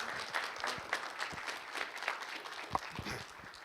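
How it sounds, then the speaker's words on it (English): A school assembly audience gives a round of applause for honored students, the scattered, fairly soft hand claps running steadily throughout with one or two sharper claps standing out. "So round of applause for both of them."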